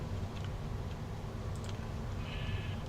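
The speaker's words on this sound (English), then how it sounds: "Where'd you come from, sheep?" A sheep in Minecraft gives a short bleat over a steady low background hum of game sound, faint and brief, with no speech.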